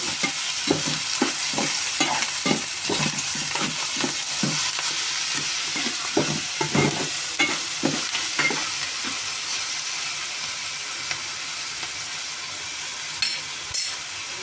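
Onions frying with salt and chili powder are stirred in a pan for a bitter gourd dish in village cooking. A spatula scrapes in a regular rhythm over a constant sizzle, and the strokes slow and then stop near the end.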